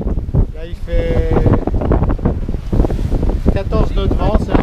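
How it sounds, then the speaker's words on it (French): Strong wind at sea, about 14 knots, buffets a sailboat cruising from Valencia toward Dénia, roaring loudly and continuously against the microphone over the wash of waves, with indistinct voices partly buried underneath. "14 nœuds de vent, c'est un bon courant de vent."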